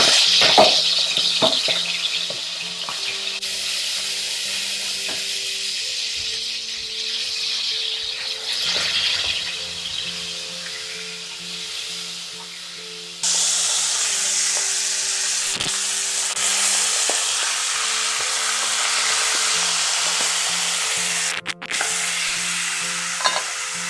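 Raw sausages browning in a pan, a loud steady sizzle and spatter running throughout, with the frying growing brighter and louder partway through and brief scrapes of stirring; no talk.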